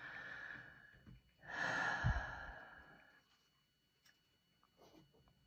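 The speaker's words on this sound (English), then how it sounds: "He's been sleeping quite a bit and snoring." A small chihuahua snores while sleeping: soft, breathy snores, one short and one longer, drawn-out breath, faint and close, with quiet pauses between and no talking.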